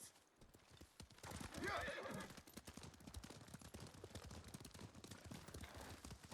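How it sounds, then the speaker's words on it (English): Horse hooves clip-clop in a quick, steady rhythm throughout a scene in the Ghost of Tsushima video game, with a shrill neigh near the start, all heard at a fairly quiet level. "investigate the horse, Jin."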